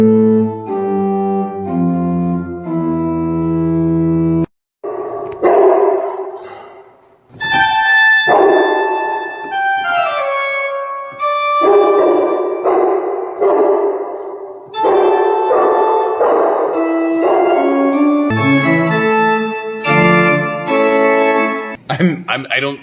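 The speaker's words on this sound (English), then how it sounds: "This dog is about to hear the pipe organ for the first time." A dog barks, yips and howls in repeated bursts against loud pipe organ chords that fill the room, the organ briefly cutting out before resuming with shifting notes.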